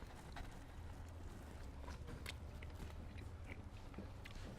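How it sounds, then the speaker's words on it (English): Biting and chewing into a grilled steak and mushroom kebab outdoors, faint close crunchy bites and soft mastication over steady low wind-like background noise. "I'm going to bite into one of these kebabs here"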